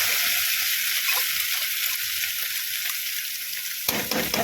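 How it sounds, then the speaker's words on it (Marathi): A dried bombil (Bombay duck) chutney mixture sizzles loudly and continuously in hot oil in a kadhai, with a sharper burst of frying and stirring near the end. "आता आपण बोंबलाचं मिश्रण केलेलं कढईमध्ये घालून घेऊ।"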